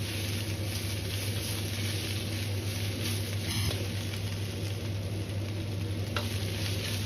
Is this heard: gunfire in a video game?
no